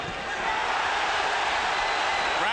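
Boxing crowd at a 1996 heavyweight bout between Andrew Golota and Danell Nicholson, roaring in reaction to a left hook: a dense, steady wash of arena noise that swells slightly and holds loud throughout.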